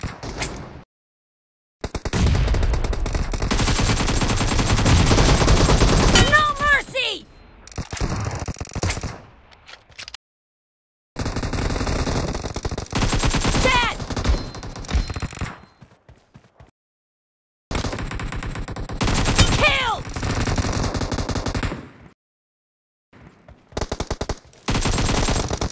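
AKM rifle fire in PUBG / BGMI, loud rapid automatic bursts with short gaps of silence between them, sharp and close.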